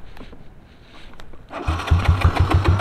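A Yamaha MX King motorcycle with a 175cc engine, custom camshaft and six-speed gearbox starts after a quiet moment and settles into a loud, slightly rough, rhythmic running close by.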